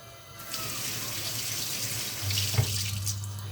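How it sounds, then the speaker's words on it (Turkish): Tap water pours steadily into a sink while lemons are rinsed under it, a close, continuous rushing stream with a brief thump of handling near the end, no talking. "Neyse limonları bir yıkayayım."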